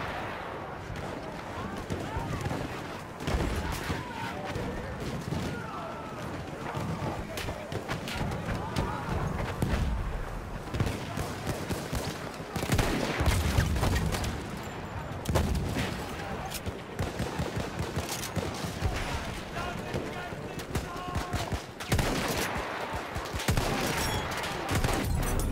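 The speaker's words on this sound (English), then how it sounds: "Machine gun over there!" Dense, sustained gunfire from a machine gun and rifles in Battlefield 1, a World War I shooter, rattling loudly and continuously through a chaotic battle with shouting voices over it.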